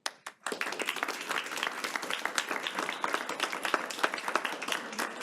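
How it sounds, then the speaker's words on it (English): Audience applause for a high school academic challenge team, a brief clap then a sustained burst of many hands clapping, crisp and close, holding steady to the end. "Give a big round of applause."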